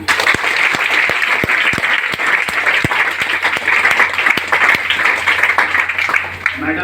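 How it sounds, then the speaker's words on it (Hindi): Loud, sustained applause from a live audience at a DXN business seminar, steady dense clapping with sharp individual claps standing out near the front, filling the whole stretch without pause. "ताली नहीं होना चाहिए।"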